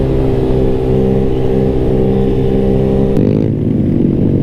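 Race car engine droning loudly at high revs, a strong buzzing tone that shifts pitch as it passes close by, with no voices.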